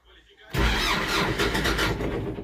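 A car engine, after fuel system repair, cranks and catches after a brief pause, then settles into a steady, loud running rumble close by.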